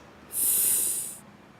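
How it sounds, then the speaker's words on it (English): One breathy, hissing rush of air lasts about a second during CPR practice, a rescue breath given close up before the sound fades. "And now give 2 breaths."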